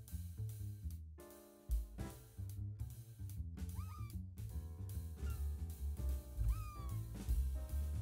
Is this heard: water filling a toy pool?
no